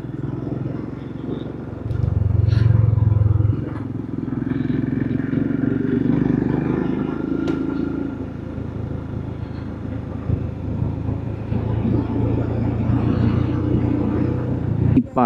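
A motorcycle engine drones steadily while riding a mountain road in Uttarakhand near Patal Bhuvaneshwar, swelling louder early on, then rumbling on with rattles and wind noise.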